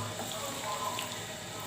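A quiet, steady rush of running liquid, like water poured or flowing from a tap, faint and continuous for a brief moment.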